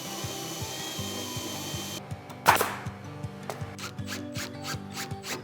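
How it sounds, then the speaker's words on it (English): A power drill bores through a stack of three pegboard sheets for a garage project. A repeating mechanical whir runs under a sharp, loud crunch at breakthrough, followed by lighter scraping taps. "drill all the way through these 3 sheets"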